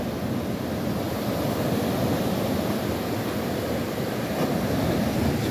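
Waves roll in steadily on a muddy sea off Atafona, where the flooded Paraíba do Sul river pours silty water into the surf, making a continuous loud wash with wind noise and no voices.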